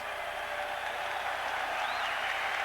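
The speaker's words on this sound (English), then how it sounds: "the crowd is giving the applause to Ramirez" A large crowd at a 1980 boxing match applauds Jose Luis Ramirez after his fight with Alexis Arguello, a steady, dense wash of clapping and crowd noise that holds at an even level throughout without letting up.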